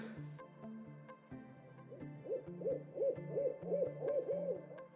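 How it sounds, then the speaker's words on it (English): An owl hoots repeatedly in a soft, steady rhythmic series of low calls, faint and alone in a quiet background. "Sorry, the owl."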